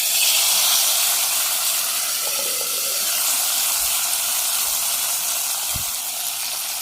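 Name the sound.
hot tempering poured into onion gongura curry, sizzling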